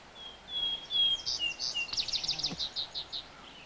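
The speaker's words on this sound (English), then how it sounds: "And again, the birds from all around us, and some far away, some close by." Forest birds chirp and trill around the listener, a near bird giving a quick series of bright rapid notes over quieter calls in a calm, otherwise hushed setting.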